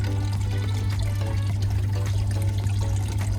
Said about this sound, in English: All our gold is in this snuffer bottle, so we just give it a good shake, tip it all the way down to the bottom.